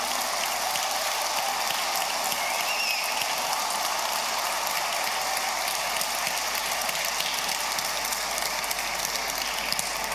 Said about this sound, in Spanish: un aplauso para todas las y los funcionarios de la salud